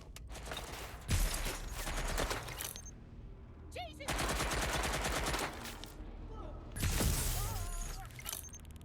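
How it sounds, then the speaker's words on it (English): Sustained bursts of automatic gunfire in the video game Watch Dogs Legion, loud and rapid in three long volleys with short gaps, with faint game sounds between. "Shots fired."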